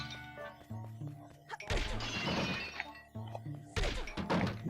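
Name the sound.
smashing objects in video game The Legend of Zelda: Wind Waker HD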